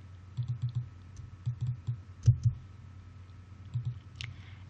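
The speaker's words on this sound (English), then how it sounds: "type a space character by pressing the space bar on the keyboard." Computer keyboard keys click close by in light bursts, with the space bar tapped several times, plus one heavier thunk and a faint scrape near the end, and no talk.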